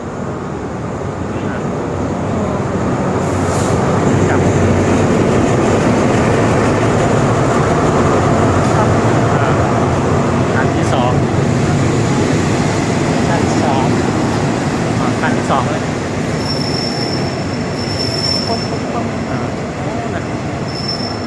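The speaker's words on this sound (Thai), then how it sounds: "รถไฟมาแล้วนะ ชั้นสามนะครับ" A third-class train pulls into a station in Thailand, its rolling rumble and wheel noise steady and close, with brief squeals and clanks over a continuous hum.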